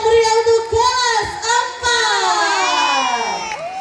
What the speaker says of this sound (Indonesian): Beri tepuk tangan yang meriah untuk kelas